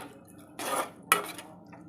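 A metal lid is set onto a cooking pan of egg and onion burji, giving a brief scraping rattle followed by a sharp clink, quiet and close with no talking.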